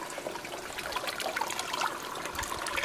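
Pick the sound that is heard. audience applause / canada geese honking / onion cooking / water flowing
water flowing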